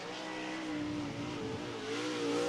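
A late model race car at speed on the Cottage Grove Speedway oval during qualifying, its engine droning loud and steady with rising pitch as it runs nearby, no talk over it.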